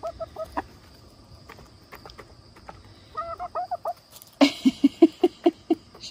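Soft Silkie hen clucks scattered at first, then a steady run of louder, evenly spaced clucks close by, with no talking.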